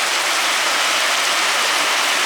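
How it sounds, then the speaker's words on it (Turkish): Heavy rain pours down suddenly and steadily, a dense, loud hiss of water with no breaks and no voices. "Aşırı bir yağmur başladı bir anda."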